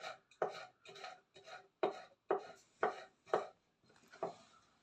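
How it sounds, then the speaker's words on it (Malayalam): Knife chopping ginger finely on a board, a steady series of about nine sharp, close chops with a brief pause partway through and no talking. "ഇഞ്ചി കുരുന്ന് അരിയണം കേട്ടോ."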